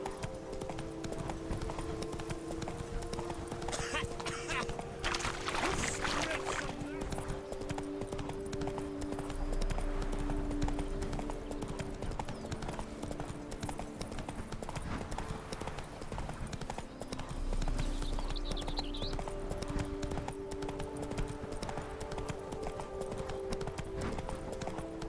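Steady hooves clip-clop from a horse ridden in The Witcher 3: Blood and Wine, a continuous rhythmic trot over ambient game music for the whole stretch.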